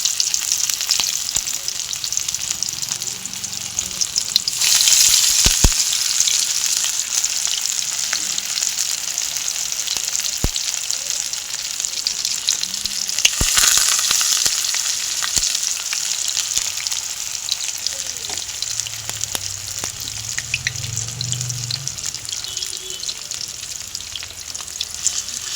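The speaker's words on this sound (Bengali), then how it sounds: "এই চিংড়ি মাছের এগুলো চপগুলো ছেড়ে দেবো।" Prawn chops frying in oil over a low gas flame, giving a steady, close sizzle throughout with a few brief clinks and louder crackling bursts, no voices.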